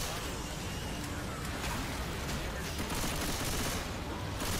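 Heavy gunfire in the co-op zombie video game Left 4 Dead 2 forms a continuous, dense barrage of shots at steady loudness.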